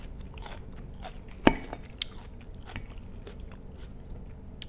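Crunchy raw radish being bitten and chewed up close, with one sharp bite near the start followed by a series of softer, irregular crunching chews.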